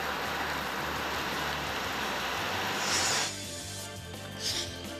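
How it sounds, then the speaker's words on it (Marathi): Heavy unseasonal rain pours at Meshi in Deola, a dense, loud wash of downpour that drops abruptly to a quieter background partway through. No one speaks. "देवळ्याच्या मेशीमध्ये जोरदार पाऊस झाला."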